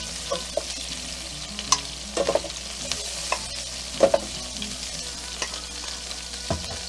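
Shrimp fry in a pan on a stove burner while grits are cooked, giving a continuous soft sizzle with scattered small pops and clicks of utensils, steady and close.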